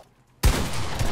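A Fortnite gunshot bursts in sharply after a brief quiet moment, a loud, close blast followed by a dense rattling tail that keeps going to the end.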